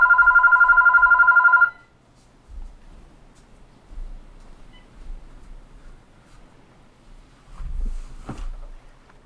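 Phone rings with a rapid electronic trill for under two seconds, loud and close, then gives way to quiet room noise and a few soft bumps.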